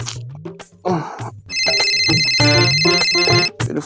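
A phone ringtone rings loudly and steadily for about two seconds, with brief talk and noises around it, in a Hindi comedy sketch.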